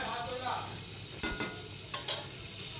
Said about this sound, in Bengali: আলুগুলো লাল লাল মতো ভাজা হয়ে গেছে